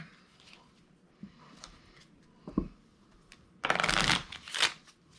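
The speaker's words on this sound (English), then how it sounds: "all the other hands and cards get shuffled back into the deck" Quiet handling sounds give way to a loud riffle as a deck of playing cards is shuffled, followed by a shorter second burst.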